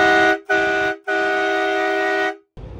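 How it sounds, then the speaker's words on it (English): A battery-powered Milwaukee quad train horn blasts three times up close, a short blast, another short blast, then a long sustained chord with rich harmonics, followed by a brief quieter noisy tail. "Here's the Milwaukee quad horn, also available in 9 different tool brands."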